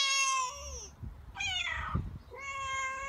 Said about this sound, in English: cat or feline.